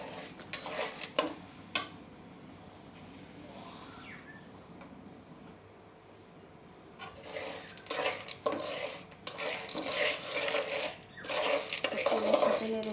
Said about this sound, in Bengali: তেলের সাথে নেড়ে চেড়ে দিব